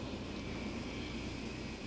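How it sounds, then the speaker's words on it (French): Jet aircraft from the 1986 film Top Gun, a steady dense roar of engine noise held without break for a couple of seconds, loud and close. "Avec le bruit des avions sans cesse, toute la journée."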